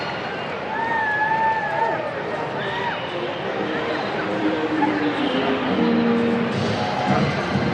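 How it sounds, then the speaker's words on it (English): Stadium crowd at a Savannah Bananas exhibition baseball game against the Party Animals, a broad steady roar of cheering and chatter with scattered whistles, under a close announcer's voice. "Getting a great reaction from the crowd"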